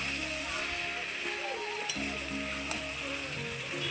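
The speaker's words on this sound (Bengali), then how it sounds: "ভালোভাবে ঘেটে নিচ্ছি।" Bottle gourd with lentil dumplings frying in oil is stirred in a pan, with a continuous close sizzle and soft scraping strokes of a spatula, plus a couple of faint sharp clicks, and no talking.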